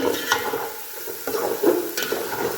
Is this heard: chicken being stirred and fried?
yes